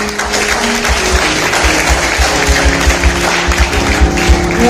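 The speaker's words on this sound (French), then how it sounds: "Je vous demande de l'applaudir, s'il vous plaît." Guests applauding the speaker at a wedding ceremony, loud continuous clapping filling the room, with a low rhythmic musical pulse running underneath throughout.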